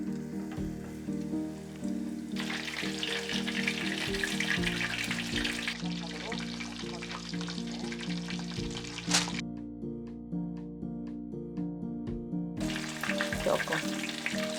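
Breaded pork finger cutlets fry in oil at moderate heat with a dense, continuous crackling sizzle, rising and falling as pieces go in, steady and close throughout with light background tones.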